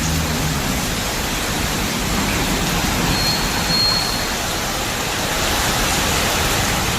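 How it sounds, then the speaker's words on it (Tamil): Heavy rain falls in the Kovilpatti area of Tamil Nadu, a steady broadband hiss that stays loud and constant throughout with no voices. "கோவில்பட்டி சுற்று வட்டாரத்தில் 2வது நாளாக மழை பொழிந்தது."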